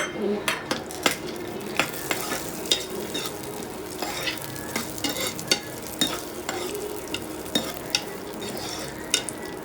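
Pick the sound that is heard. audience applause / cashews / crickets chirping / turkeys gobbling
cashews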